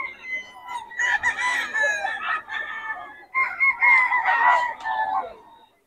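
A large rooster crows twice nearby in Bocaue, loud and drawn-out, with a short pause between the calls.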